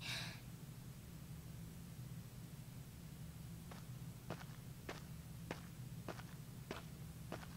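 Footsteps in the fog in the video game Ys VIII: Lacrimosa of Dana on PS Vita, about eight soft, evenly spaced steps starting midway, faint over a steady low ambient drone, with a brief gasp-like breath at the start.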